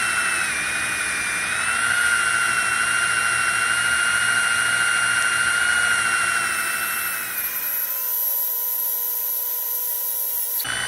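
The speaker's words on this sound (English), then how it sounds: "You kind of let the buffer bring it around." A spinning buffer pad polishing a Freightliner truck's plastic side blinker lens, a steady high whirring drone that runs continuously and then shifts in tone near the end, with no talk.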